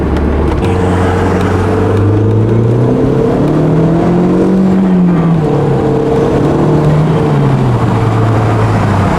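An Audi S3 engine revs and accelerates under boost, with a loud, sustained drone whose pitch climbs, dips and climbs again throughout.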